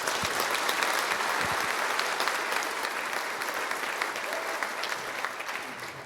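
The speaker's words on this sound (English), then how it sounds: "I think we should give a big clap to 9dots and Cloudsmith and a big thank you" A large conference audience applauds in a sustained, dense wash of clapping that slowly tapers off over several seconds.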